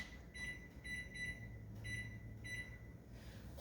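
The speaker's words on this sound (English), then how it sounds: "let's put a timer on it" A kitchen timer beeps in repeated bursts of high, sharp electronic tones, clear and fairly close, with a low background hum beneath, set while pizza dough rises.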